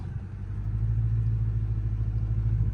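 A Dodge Charger RT sits with launch control engaged, its engine holding a steady, low, close idle rumble that swells slightly as the revs come up.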